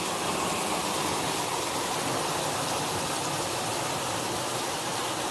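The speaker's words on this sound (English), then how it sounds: "rain's still coming down" Heavy rain pours down during a hailstorm, a steady, dense, loud wash of noise that continues without a break and with no voices.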